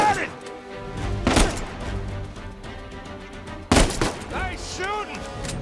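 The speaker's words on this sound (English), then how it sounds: "Nice shooting!" Gunfire in Uncharted 4 comes as a few sharp, loud shots spaced seconds apart, mixed with voices talking and shouting during the fight.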